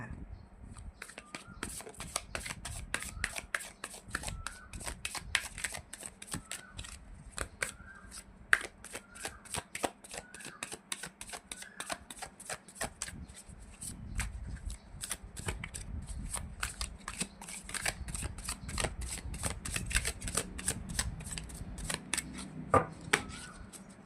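Tarot cards are shuffled steadily and close by for the whole stretch, a dense train of crisp riffling flicks with a faint voice in the background.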